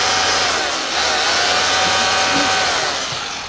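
A Makita HR2601F rotary hammer runs steadily with a loud, continuous motor whine and buzz, close up and without talk.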